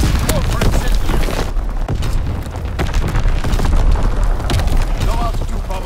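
Artillery bombardment in Call of Duty WWII, heavy booms and rumbling blasts rolling one after another at steady loudness, with a game announcer voice speaking over the barrage.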